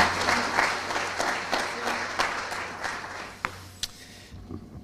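Audience applause at a credit union's annual general meeting, steady clapping from a crowd lasting several seconds before thinning out to a few scattered claps at the end.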